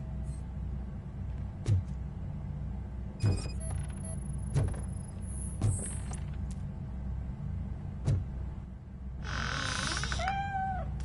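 A cat in the RoboCop: Rogue City video game meows in a few short cries near the end, over a low game ambience with scattered soft thuds and clicks.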